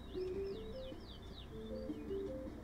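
Birds coo and chirp softly in the Draw a Stickman EPIC video game, a few repeated calls over a steady game background.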